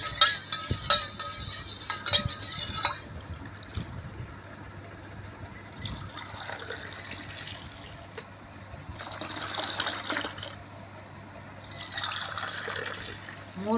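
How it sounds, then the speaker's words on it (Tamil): Yogurt is whisked with water into a thin, buttermilk-like lassi in a home kitchen during Ramadan suhoor preparations, giving soft, irregular liquid sloshing and stirring that swells and fades over low background noise. "மோர் மாதிரி நல்லா அடிச்சு கொடுத்தேன்."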